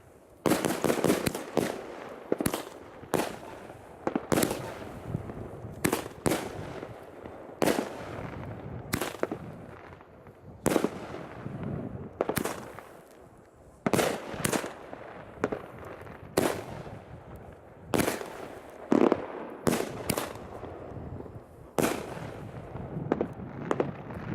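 A fireworks cake battery firing after its backup fuse is relit on New Year's Eve, a long string of sharp bangs at irregular intervals, mostly in rapid pairs and clusters, moderately distant and outdoors with no talk.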